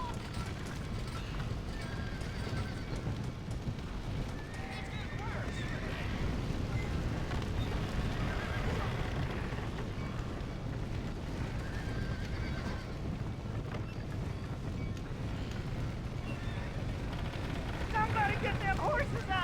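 Panicked horses in a burning barn in the Red Dead Redemption video game, with neighs and whinnies over a dense, steady roar of fire and commotion, and shouting voices mixed in.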